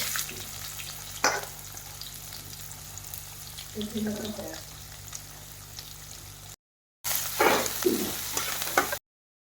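Cumin seeds and onion sizzle in a spoonful of hot oil for bendi fry, a continuous crackling hiss with a few sharp clatters and stirring sounds, briefly cut off near the end.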